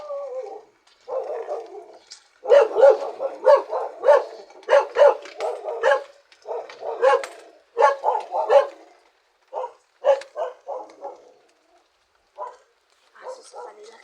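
Several dogs bark in a rainy setting during a typhoon, with bursts of yips and barks in irregular clusters, fairly close and moderately loud, broken by short pauses.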